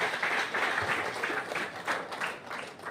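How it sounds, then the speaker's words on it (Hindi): Applause from an audience at a roadside development event in Nagpur, a dense steady wash of many hands clapping for about three seconds, moderately loud with no voices on top. "तो मैं चाहता हूं इस मेट्रो ग्रुप ऑफ कंपनी के लिए एक बार जोरदार ताली होनी चाहिए।"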